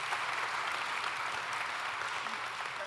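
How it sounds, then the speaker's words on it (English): An audience at an industry insights session applauds the panelists, a dense, even wash of clapping that holds steady and fairly loud for its whole length without anyone speaking. "let's give them a round of applause"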